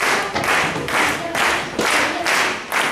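Rhythmic hand clapping from a group of children, about six even bursts at a steady beat, close and fairly loud.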